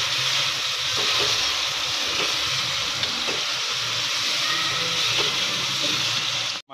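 Onion and tomato frying in a pan for beef karahi, a steady loud sizzle holding without a break, close up, with faint scraping of stirring underneath.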